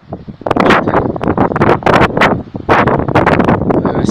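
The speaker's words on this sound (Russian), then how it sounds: "Сильный ветер, потом буду говорить немножко погромче." Strong wind buffeting the microphone in loud rumbling gusts, rising and falling almost continuously.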